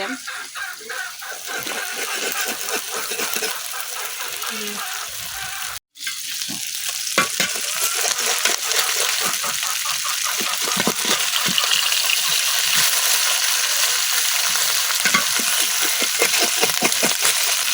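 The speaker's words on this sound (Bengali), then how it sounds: "আমার মাছ কিন্তু এক সাইড বাজা হয়ে গেছে এখন আমি উল্টাই" Small whole fish sizzle and spit in hot oil in a pan, a steady loud crackle with scraping and turning clatter as the pieces are flipped, a brief gap partway through.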